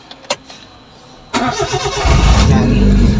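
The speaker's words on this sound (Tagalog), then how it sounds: "Start mo yung sasakyan." A car engine cranks and catches after a few faint clicks, then settles into a loud, steady idle rumble nearby during brake hydrovac and master cylinder repair work.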